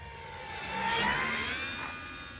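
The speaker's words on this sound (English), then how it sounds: "Full power." A Dynam P-47 RC model airplane's electric motor at full power makes a whining drone that swells to a peak and then eases off as it passes at moderate distance.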